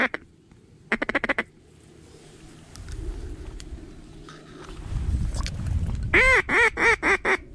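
Mallard ducks quack in short bursts: a few calls at the start, then a quick loud series of nasal quacks near the end, over outdoor waterside ambience at a waterfowl hunt.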